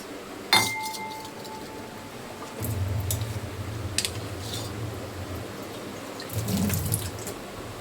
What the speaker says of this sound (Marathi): आता पाणी घेते थोडंसं